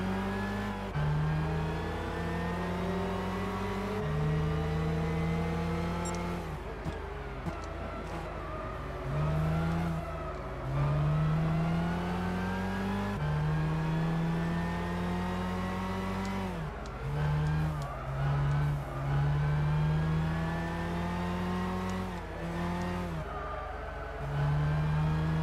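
Race cars in Gran Turismo 6 during a Super GT300 championship race, including a Cusco Subaru Impreza and a Subaru BRZ, with engines droning loudly and continuously as they rise and fall in pitch through repeated gear changes.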